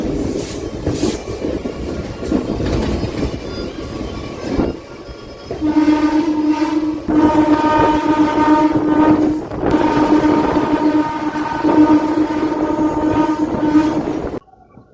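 A MEMU train between Machilipatnam and Vijayawada rumbles along loudly with clattering wheels, and its horn sounds in long sustained blasts through the middle stretch before the noise drops away.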